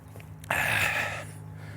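A single heavy exhale or gasp of breath from a sweaty walker on a final push up a small incline near a pond, broad and breathy, close and fairly loud, lasting under a second against faint steady background hum.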